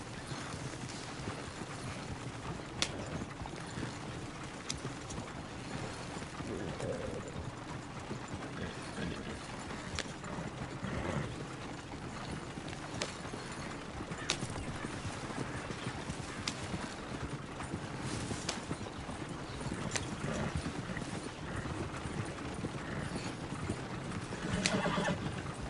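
Horse hooves clip-clopping in Red Dead Redemption 2, a steady rhythmic beat of hoofsteps carrying on for a long stretch at moderate volume, with an occasional whinny and faint background game ambience.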